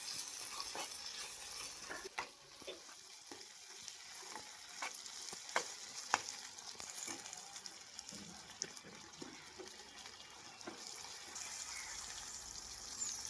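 Tomatoes frying with onions and curry leaves in a pan, a steady dense sizzle with occasional stirring scrapes and small pops, continuous and fairly quiet throughout.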